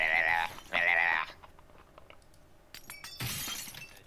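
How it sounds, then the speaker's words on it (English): Glass smashing in Gmod Murder, a bright shattering crash near the end after two earlier loud bursts of game noise, with faint clinks in between. "That's really top quality glass, and you're just smashing."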